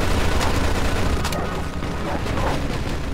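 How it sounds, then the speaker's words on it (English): Sustained gunfire during a Mafia II battle, including machine gun bursts, keeps up a dense, loud crackle of overlapping shots and booms for several seconds. "Looks like we found the machine gun."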